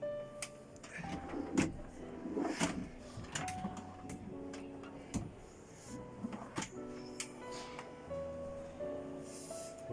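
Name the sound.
large kitchen drawers opening and closing in camper van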